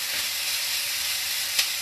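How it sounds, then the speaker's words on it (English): Onion and bacon sizzle in a frying pan with a steady, close hiss and one brief crackle near the end. "I'm just cooking down the onion with some bacon at the moment"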